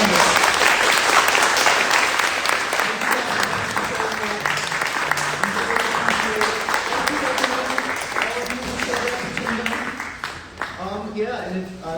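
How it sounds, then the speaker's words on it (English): A college town-hall audience at a Democratic primary event applauds for the candidates, a dense continuous roar of clapping that holds strong and then thins toward the end, with voices mixed in underneath. "Can we please give a round of applause for our candidates?"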